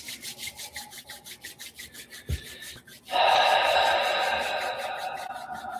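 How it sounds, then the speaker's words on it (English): Hands slowly rubbing together during a cacao ceremony, starting as soft rhythmic swishes and swelling into a steady, close, continuous friction rub that lasts several seconds with no talk over it. "Slowly rubbing our hands."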